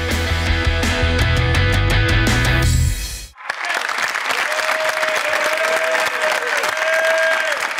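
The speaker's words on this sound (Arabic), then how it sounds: "تصفيق اقوى منك على وسيم." A studio audience at a game show applauds loudly and continuously after a burst of music cuts off, with scattered cheers and whistles over the dense clapping.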